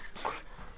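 A dog gives a single short, faint whimper nearby against a soft background hiss.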